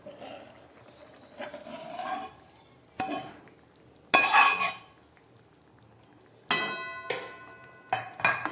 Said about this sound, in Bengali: এই আলুর মধ্যে আমি এই ট্যাংরা মাছগুলোকে দিয়ে দিচ্ছি।